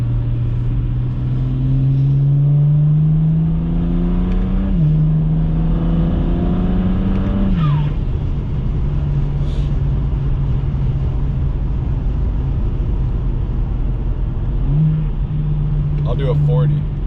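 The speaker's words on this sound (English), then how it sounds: "this car idles like really rough, but then once it gets going, it's running perfectly fine" A BMW 335i N54 on E85 with a Stage 2+ tune accelerates with a droning engine note. The revs climb in rising sweeps with shifts in between, then settle into a steady cruise hum, loud and close from inside the car.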